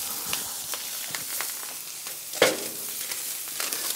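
Beef burger patties sizzle and fry on a hot surface for a smash burger, a steady crackling hiss with scattered pops and one sharper clatter midway, close and without voices.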